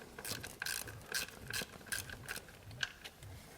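A socket wrench backs out an ignition coil bolt on a GM 3100 engine, giving quick repeated ratcheting clicks in short bursts, close and fairly quiet.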